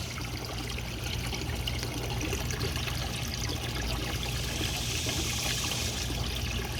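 Water overflows from a cheap DIY flood and drain hydroponic container, spilling out of three holes in the bottom and a hole in a white cup; a steady, close trickling splash continues alone without pause.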